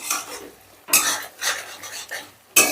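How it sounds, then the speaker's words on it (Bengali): Spice paste for a rohu fish curry being stir-fried over raised heat, heard as a handful of close, rhythmic scraping strokes of a spatula in a pan over a faint sizzle. "এবার গ্যাসের আঁচটা বাড়িয়ে দিয়ে আমি মশলাটা বেশ ভালো করে কষে নেব।"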